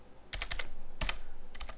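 Quick bursts of computer keyboard typing during a Linux Mint upgrade, with clusters of sharp key clicks close up in three uneven groups separated by short pauses.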